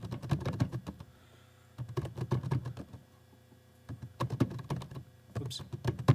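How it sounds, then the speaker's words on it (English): Keys clacking on a Braille keyboard as a short sentence is typed, quick clustered bursts of close clicks separated by brief pauses. "Now, I am just going to type a little sentence here."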